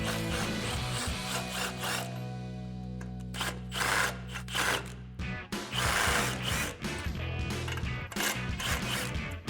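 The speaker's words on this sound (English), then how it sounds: "we're gonna grab our impact and 24mm socket and take this nut off" An impact wrench with a 24mm socket spins a ball joint nut off a 2009-2018 RAM 1500 front suspension, loud repeated bursts of rattling hammering with short pauses between them.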